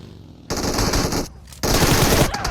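MG3 machine gun fire in the PUBG Mobile video game rattles in two loud, dense bursts, the first about a second long, the second after a brief gap, close and without speech.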